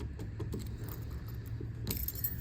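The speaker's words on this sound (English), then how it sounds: "Let me find the right key here and we'll open up the trunk." Keys on a ring jangle up close beside a 1965 Ford Mustang convertible as the trunk key is sought, a quiet run of small metallic clinks that ends in a brighter rattle.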